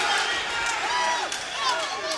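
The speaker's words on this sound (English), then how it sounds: "Crowd got behind that one." Crowd at a boxing bout cheering and shouting, a dense roar of many voices with rising whoops, heard close and continuous for a couple of seconds.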